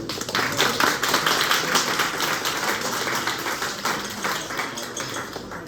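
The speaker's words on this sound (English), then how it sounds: "Let's have a massive round of applause" An audience at a human-centred design event in Manchester claps in a full, steady round of applause for a panel coming up, many hands blending into a continuous, moderately loud patter with no talking.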